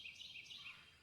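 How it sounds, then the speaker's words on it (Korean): Bird calls of an unidentified species ring out in a bamboo forest at dusk in a fox dating-sim video game, a continuous faint high chirping with no other sounds. "이름 알 수 없는 새소리가 울려 퍼졌다."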